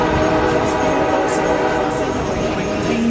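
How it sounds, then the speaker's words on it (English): Steady rumble and clatter of a train rolling along the Stone Mountain Scenic Railroad tracks, with a faint horn-like tone rising at the end. "here are some excerpts from the holiday train ride"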